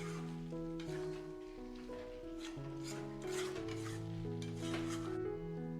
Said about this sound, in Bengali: এবার মশলার সাথে গুঁড়োটা আর একবার একটু ভালো করে কষিয়ে নেব